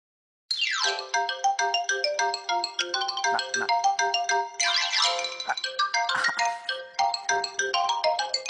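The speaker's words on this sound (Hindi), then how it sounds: "किसी का फोन आ रहा है।" A melodic electronic phone ringtone plays alone, bright chiming notes in a repeating tune, clear and fairly close.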